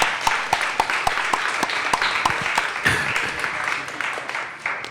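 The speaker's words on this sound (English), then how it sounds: "let's give our panelists a round of applause" An audience at a panel event on prisoners and prison archives gives applause: scattered sharp individual claps merging into a fuller, moderately loud patter that tapers off slightly toward the end.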